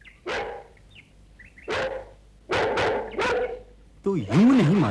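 A dog of Hastinapur gives several sharp, close barks spaced apart, some doubled, and a voice rises at the end.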